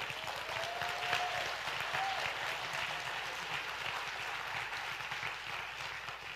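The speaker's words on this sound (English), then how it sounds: "Let's just give him a hand clap." A church congregation gives a warm hand clap, a steady wash of many hands applauding at moderate distance, sustained evenly for several seconds with a faint tonal sweep early on.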